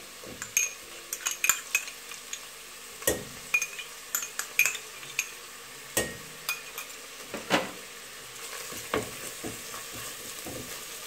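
Shallots and garlic sizzle in a hot pan while a utensil stirs, producing a steady frying hiss punctuated by repeated metallic scrapes and clinks against the pan, close up and without talk.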